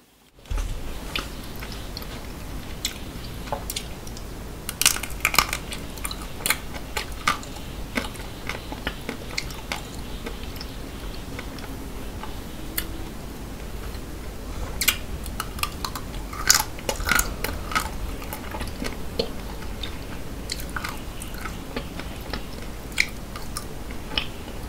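Close, crisp bites and soft chewing of taro-flavoured mochi ice cream and heart-shaped chocolate, with irregular crunchy clicks and moist squishes over near silence.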